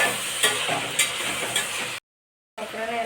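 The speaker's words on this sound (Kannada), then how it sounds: "ಟೊಮೊಟೊವನ್ನು ಸ್ವಲ್ಪ ಸಾಫ್ಟ್ ಆಗೋಕ್ಕಂತ ಫ್ರೈ ಮಾಡ್ತೀವಿ" Capsicum and tomato fry in a pan with a steady, close hiss of sizzling and a few light utensil taps, broken by a short silent gap before the sizzle resumes.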